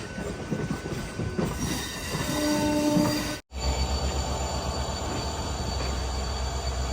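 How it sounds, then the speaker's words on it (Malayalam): A train rumbles in close by, wheels clattering on the rails and brakes squealing as it slows into Villupuram railway station, with a brief pause midway. "വിഴുപ്പുറം റെയിൽവേ സ്റ്റേഷനിലേക്ക് ഇതാ നമ്മുടെ ട്രെയിൻ എത്തിക്കൊണ്ടിരിക്കുകയാണ്"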